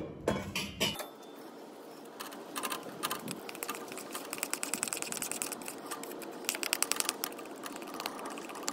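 Oxalic acid mixture for a varroa mite treatment being stirred in a pot on a low burner, with rapid light metallic clinks and scrapes of the utensil against the pot, close and moderately quiet, following a brief louder burst at the start.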